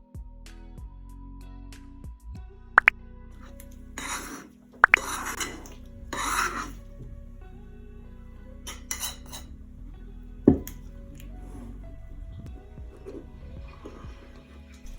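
A utensil stirring flour breading mix with cornstarch, black pepper and garlic powder in a bowl for KFC-style fried chicken: scraping strokes and dry rubbing, with sharp clinks of metal on the dish, close and intermittent.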